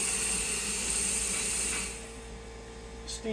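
A steam nozzle blasts onto a Martin HD-28 acoustic guitar with a steady, close hiss for about two seconds, then shuts off, leaving a quieter background hum.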